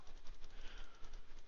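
A train in the video game OpenTTD runs along rails with a steady, rumbling clatter, continuous and fairly loud for the whole brief stretch.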